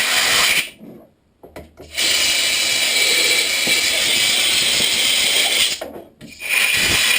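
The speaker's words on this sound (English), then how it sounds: "I'm going to take the blower to everything" A blower blasts air over RPK-74 rifle parts during cleaning: a loud, close, broadband rushing hiss in three bursts, a short one, a long steady one and a final short one, separated by brief quiet gaps.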